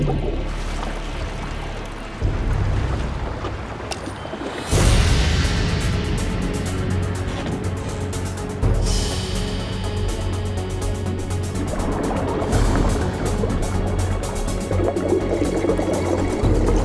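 A boat powers through open water, a loud churning wash with a low engine drone that surges abruptly and keeps rushing and splashing with shifting intensity.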